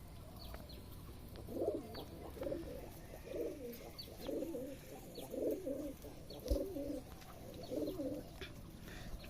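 Pigeons coo in a series of low, throaty bursts at a pigeon farm, repeating every second or so against a quiet background, with no talking.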